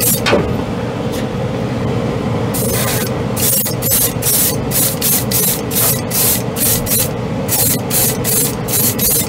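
An airbrush sprays thinned Mr. Hobby Aqueous acrylic lacquer in a loud, steady hiss, then breaks into a run of short, rhythmic bursts as the trigger is pulsed repeatedly.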